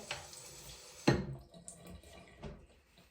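Water runs briefly from a tap as a hair brush is wetted, with a sharp splash and a few soft trickles and drips close by. Nobody speaks.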